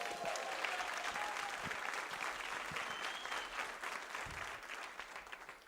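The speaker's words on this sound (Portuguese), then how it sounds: "dá um aplauso ao Senhor Jesus" Church congregation applauding steadily at a Brazilian Portuguese evangelical service, a dense, even wash of clapping throughout with faint crowd murmur beneath.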